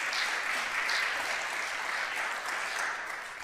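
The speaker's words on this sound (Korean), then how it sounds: "여러분, 크게 박수로" A church congregation applauds, producing a steady, full wash of clapping that stays loud throughout and only eases slightly toward the end.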